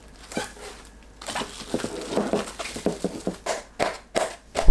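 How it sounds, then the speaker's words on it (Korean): Plastic cling wrap being pulled and pressed over a microwave-safe bowl, giving a close run of crinkling and crackling rustles with sharper snaps toward the end, no voices. "전자레인지 사용 가능한 그릇에 담고 랩을 씌웁니다."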